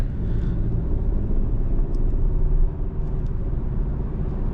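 Steady low road rumble heard from inside a Kia K5 sedan while driving, a constant loud drone of tire and engine noise with no talking.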